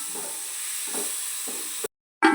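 Masala with chopped tomato sizzling in a pan while being stirred, a steady close hiss broken by a few scraping strokes, then a brief silence and a louder burst of sizzle.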